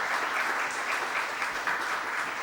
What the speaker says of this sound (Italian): salutiamo con un applauso naturalmente